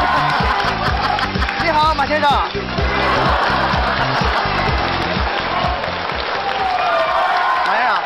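Studio audience applause greets a guest, Mr. Ma, a film investor, arriving on a comedic talk-show stage. Clapping swells over upbeat entrance music while a host speaks a brief greeting.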